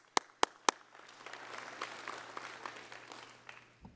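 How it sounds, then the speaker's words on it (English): A few sharp, close hand claps open, then quieter scattered applause spreads through the hall at a Disabled American Veterans business session, fairly faint and continuing to the end. "let me give you my applause to you."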